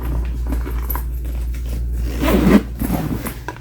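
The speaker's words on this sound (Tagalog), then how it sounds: "Tapos may zipper pa siya." Zipper on a new bag being pulled open during an unboxing, a steady scratchy run that swells into a louder rasping pull near the end, close up, over low indoor hum with no talking.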